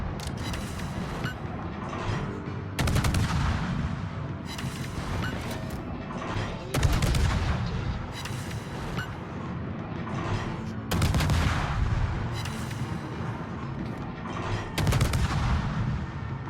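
Heavy naval guns firing in a warship video game, broadband booming salvos recurring every few seconds over a dense rumbling battle bed, loud and sustained with no clear speech.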